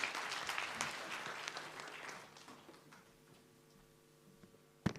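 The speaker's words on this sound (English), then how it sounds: "Give yourself a round of applause." A census report session audience claps at the close, a brief spread-out round of applause that fades after a couple of seconds, leaving a quiet room with a sharp knock near the end.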